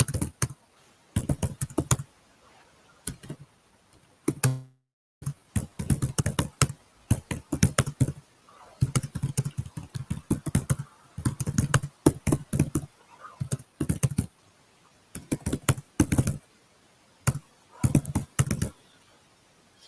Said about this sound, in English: So obviously typing some sort of long, important message.